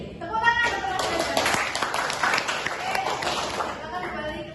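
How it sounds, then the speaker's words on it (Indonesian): Students in an elementary school classroom clap for a classmate, a dense burst of many hands applauding close by, mixed with voices and cheering throughout. "Tepuk tangan untuk Mas Reza"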